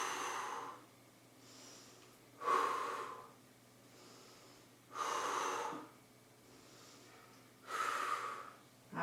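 Forceful exhalations during an abdominal workout routine: three strong, breathy blows spaced a few seconds apart, with softer inhales in between, close to the microphone and with no talking.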